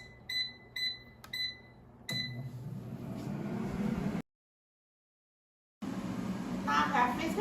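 Air fryer control panel being set for temperature and time: three short, evenly spaced high beeps, then a fourth, followed by a steady fan whir with a gap of silence midway.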